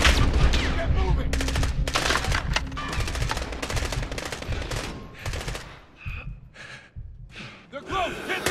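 Rapid machine-gun bursts rattle through a Call of Duty: Modern Warfare firefight, loud and sustained for several seconds, then giving way to scattered shots, gasps and heavy breathing.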